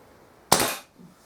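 A Kral NP02 air pistol with twin air cylinders fires a single sharp, close pneumatic crack that fades quickly, with a faint after-sound.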